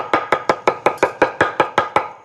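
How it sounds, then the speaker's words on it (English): A knife chops fresh thyme leaves on a cutting board in a quick, even rhythm of about a dozen crisp, close strikes. "Let me just chop them up a little bit."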